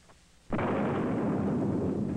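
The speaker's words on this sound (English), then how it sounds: "capable of hearing the roar of a cannon" A sudden, loud booming blast erupts after a brief quiet moment, then roars on as a sustained deep rumble.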